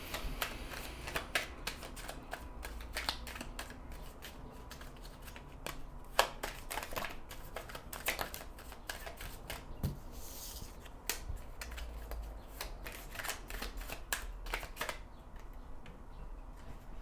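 Oracle cards being shuffled, a steady run of crisp card riffles and flicks close to the mic over soft background hiss, with no one speaking.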